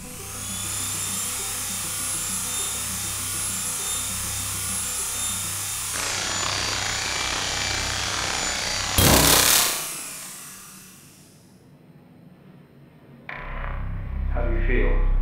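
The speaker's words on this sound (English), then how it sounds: "A little nervous I'm turning this drill on." Drill running in the video game Stories Untold, a sustained whine and grinding hum that shifts pitch partway through, cuts out abruptly with a burst, fades to near quiet, then starts up again loudly.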